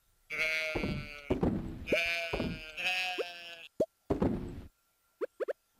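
Farm goats in the Stardew Valley video game let out several loud, wavering bleats in a row, followed by a few short game plops.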